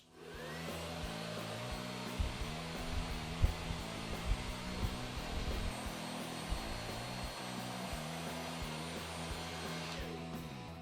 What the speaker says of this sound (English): I'm actually going to blow dry the wig again so I can have it dry and see what it looks like